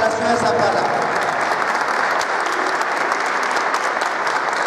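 Sustained, dense applause from an audience at a political rally proclaiming a mayoral candidate in Zapala, steady and loud throughout, with a faint voice briefly audible over the opening moments.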